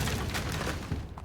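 Incendio fire spell cast in Hogwarts Legacy, a loud whooshing, crackling fiery burst with deep rumble, sustained for about a second before tailing off, no talk over it.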